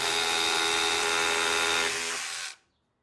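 A DeWalt DCH172B Atomic 20V rotary hammer drill with a 2-amp battery drives a 3/8 bit into a brick wall, a loud harsh close-up grinding buzz held steady for about two and a half seconds before cutting off abruptly.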